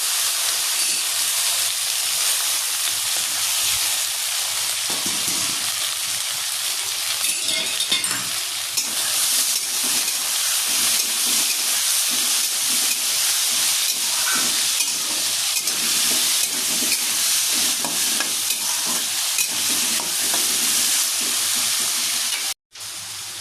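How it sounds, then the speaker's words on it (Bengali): Chopped potatoes and onions frying in oil in a kadai, a loud, dense, continuous sizzle and hiss with faint stirring scrapes, holding steady before dropping off abruptly near the end. "আলু পেঁয়াজটা কেটে রাখা তুলে দিলাম।"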